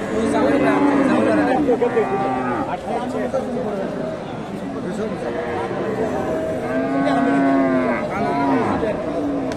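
Crossbred cows low repeatedly at a busy cattle market in Dakumara, Bogura, with long, loud moos rising over a steady crowd murmur.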